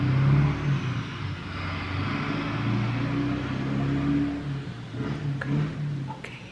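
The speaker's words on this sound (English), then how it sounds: "Oh my gosh, these trucks are so noisy." Heavy trucks drive past outside an open window, a loud, rumbling engine drone that swells and fades, with no one talking.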